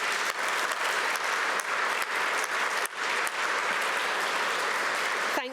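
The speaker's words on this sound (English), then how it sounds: "Could we please give them a round of applause?" Steady, dense applause from an audience at a political society's New Year conference, thanking volunteers; continuous clapping fills the whole stretch and breaks off abruptly at the end.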